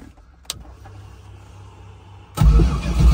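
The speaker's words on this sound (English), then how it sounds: "now the car starts, which is what you're going to see right here" Car engine on a no-prep build, after a cam and crank sensor fix, cranking and catching with a sudden loud burst near the end, following a quiet stretch with one sharp click, no talking.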